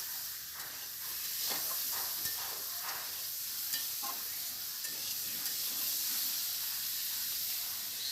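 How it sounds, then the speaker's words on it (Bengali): Soya chunks sizzle and hiss steadily as they fry in a pan, with a faint scrape of stirring now and then; a quiet, continuous, close frying sound. "একটু নাড়াচাড়া করে সয়াবিনটাকে ভালো করে ভেজে নিতে হবে।"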